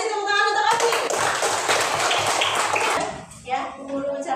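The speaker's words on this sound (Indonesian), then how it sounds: "kasih tepuk tangan untuk Abi" Children in a classroom clap together for a classmate named Abi, a dense burst of hand claps lasting about three seconds with young voices mixed in, then fading as an adult voice begins speaking.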